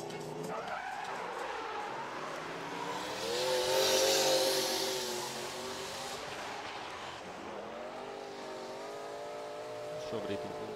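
A Pro class car drifting at the NEZ drift competition in Riga skids past with a long tire squeal and revving engine that swells loudly and then fades, while a commentator talks over it.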